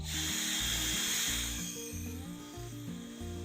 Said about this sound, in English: Now I'm going to get a drill bit that's actually much bigger than that bolt